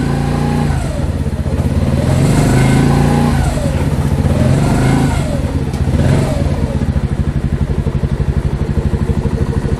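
A Mash Fifty motorcycle engine, fitted as a replacement, runs close by with a loud chugging idle that rises and falls as it revs through first, second and third gears.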